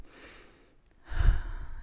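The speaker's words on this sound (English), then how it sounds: "Smile, take a deep breath," A single deep breath taken during a relaxation and stretching breathing exercise, a soft inhale followed by a stronger, breathy exhale, heard close and alone.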